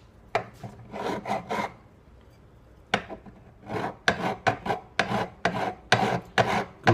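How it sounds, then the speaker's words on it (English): A metal file rasps back and forth across guitar frets during fret leveling, in two bursts of quick, close, loud strokes separated by a short pause, with no talking. "The file removes a lot of material at once, so be careful."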